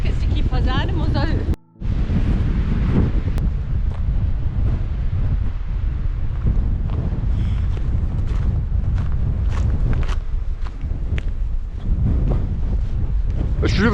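Strong gusting wind buffets the microphone high in a remote glen, Glen Roy in the Scottish Highlands, a loud continuous roar with a brief dropout near the start.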